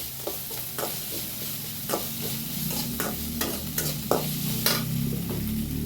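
Chopped tomato going into a pan of sautéed onions, a soft continuous sizzle broken by repeated scraping stirs of a spatula, close up and without speech.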